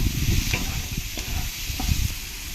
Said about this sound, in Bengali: লবণটা দিয়ে ভালো করে আমি একবার নেড়ে দেবো ভেজিটেবলের সঙ্গে